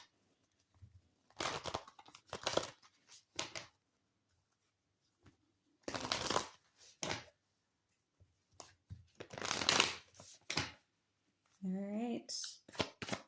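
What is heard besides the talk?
oracle cards being shuffled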